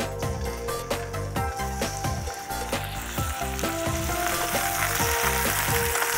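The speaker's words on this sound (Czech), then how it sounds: "A opečeme na pánvi." Loud, continuous sizzling and crackling of chicken breast frying in oil in a hot pan, dense and steady for several seconds with no talking.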